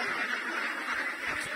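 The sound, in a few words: ducks quacking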